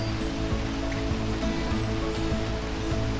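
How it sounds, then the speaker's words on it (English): Steady outdoor rain falls in Gaspesie Park's mountain forest, a continuous even hiss of drops with no voices, constant in level from start to finish. "just as we started to pack up and drive out of the park, it started raining."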